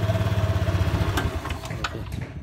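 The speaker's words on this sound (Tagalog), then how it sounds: "So ayan, umaandar yung makina, no? Umaandar siya. Naririnig natin." A Yamaha NMAX V1 ABS scooter engine idles with a steady, pulsing low putter, close and fairly loud, easing off slightly near the end with a few faint clicks.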